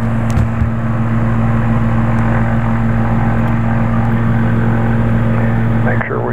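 Excalibur light aircraft engine idling steadily during warm-up, a loud, constant droning hum with strong low harmonics, a voice briefly heard near the end.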